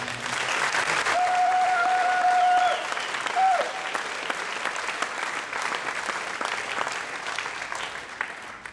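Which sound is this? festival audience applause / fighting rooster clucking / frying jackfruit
festival audience applause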